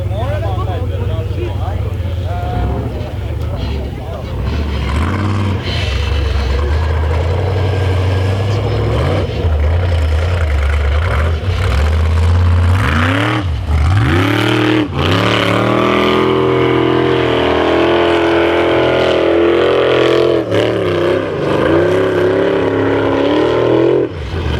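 A Formula Offroad car at Matrand revs hard climbing toward the top of a steep hill, engine rising and falling in sweeping bursts, with a commentator talking over it throughout.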